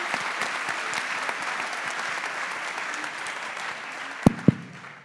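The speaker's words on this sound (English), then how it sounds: "let's give her maybe one round of applause for that" Audience applause after a keynote talk at a conference, a dense, steady wash of many hands clapping that fills the room, ending with two sharp, loud knocks near the close.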